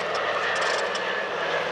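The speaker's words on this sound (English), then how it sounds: "So the aeroplane now back in its amphibian roll with the wheels down" Engines of a Consolidated PBY Catalina amphibian, a Canadian Vickers-built Canso with wheels down, roaring steadily at an air show; a loud, continuous broadband drone with no break.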